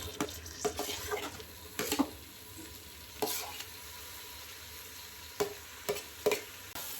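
Tomatoes are stirred and sautéed in a pan with ginger garlic paste for vegetable biryani, giving a soft steady sizzle with scattered scraping knocks of a spoon against the pan, close and fairly quiet with no talking.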